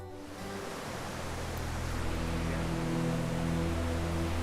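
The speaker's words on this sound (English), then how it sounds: "Minnehaha, in my opinion, one of the prettiest waterfalls in the state." Minnehaha waterfall near Lake Rabun, Georgia, gives off a steady, even rushing roar that swells slightly and stays constant, with no voices.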